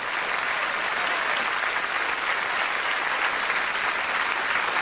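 Sustained, even applause from a comedy show audience rolls on for several seconds, thick and continuous, with many hands clapping and no talk on top.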